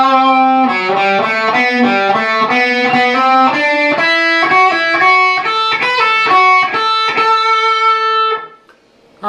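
Overdriven electric guitar plays the opening measure of the second solo of a song, a quick run of picked single notes and bends, loud and close, ending abruptly.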